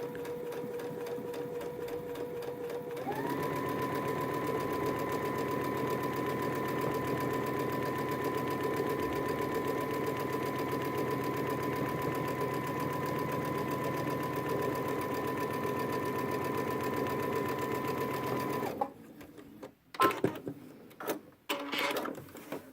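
A sewing machine running a straight stitch on a backpack, a steady close mechanical whir held for about fifteen seconds, then stopping into a few scattered handling clicks.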